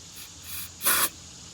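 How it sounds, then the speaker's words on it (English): A short burst of aerosol starting fluid hisses into an old bus engine for about a quarter second, close and fairly loud, following a fainter earlier hiss. "Go ahead and give it a spray in there."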